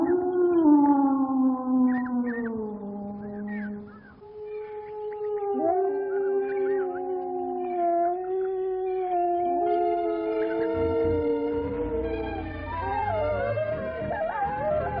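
A pack of wild wolves howling in long, sliding, overlapping tones, several voices rising and falling together in a sustained chorus that stays clear and steady throughout with no other sounds intruding.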